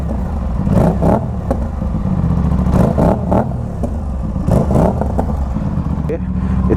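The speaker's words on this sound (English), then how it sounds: "So let me give it some rev." Motorcycle fitted with a GPR Ghost full system exhaust with the dB killer installed, revved repeatedly in short bursts close by, each blip rising over a rumbling idle, with a voice speaking over it.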